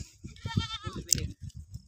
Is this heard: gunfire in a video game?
no